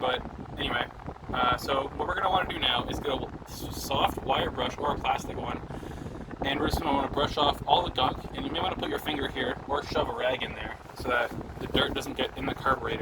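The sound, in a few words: electric fan blowing on the microphone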